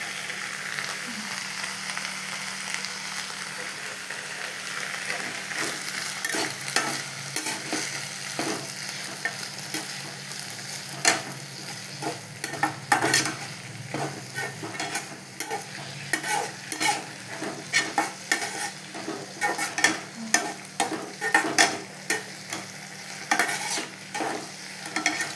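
Leafy greens (mirugai keerai) stirred and sautéed in a pan, with steady sizzling and repeated scraping strokes of a spatula that grow more frequent and louder toward the end, close up with no talking.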